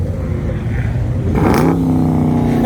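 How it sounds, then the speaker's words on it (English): A Hemi-engined car revs hard as cars leave a Houston car meet, a loud rising roar that settles into a strong, steady growl, close by and with no talk over it. "That Hemi, man, nothing like the sound of a Hemi"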